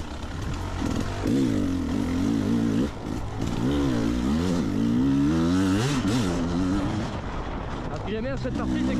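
An enduro motorcycle works along a technical special-stage trail, its engine revving and dropping repeatedly through turns, loud and close throughout with brief gaps between throttle bursts.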